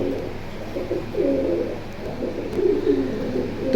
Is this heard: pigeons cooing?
yes